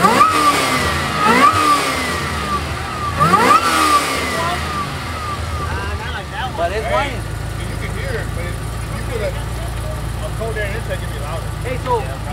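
A car engine revs hard several times up close with rising and falling surges, then drops back to a rough idle while people talk over it.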